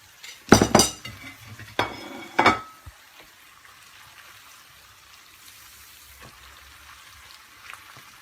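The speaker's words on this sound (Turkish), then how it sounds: "Şuradan bir tabak almaya çalışayım." Ceramic plates clatter and clink sharply in a few quick bursts near the start as one is taken from a full dishwasher in a home kitchen, then quiet room tone with faint small knocks follows.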